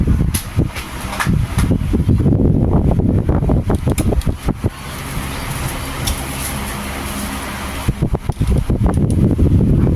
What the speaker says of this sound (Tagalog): So pagka masyadong malakas yung electric fan nyo, normal lang na uugong yan siya.